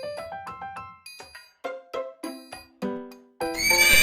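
A horse neighs in a short run of bright, rising and falling whinny bursts, followed by a noisy sustained tone at the end, with no talk.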